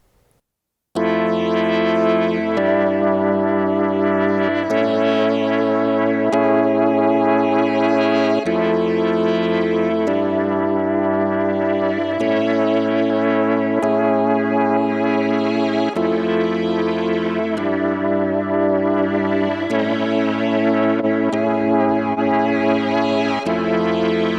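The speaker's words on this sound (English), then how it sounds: "Instability controls the level of pitch drift and modulation, creating classic wow and flatter effects." A sustained synth chord with slow, wavering tape-style wow and flutter pitch drift and warble from a Tape J-37 effect, repeating in long phrases for the whole stretch.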